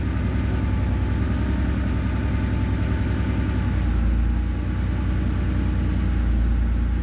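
An air-cooled Porsche 911 engine, started for the first time in two or three years, idles with a steady, close, throbbing rumble and a slight swell partway through.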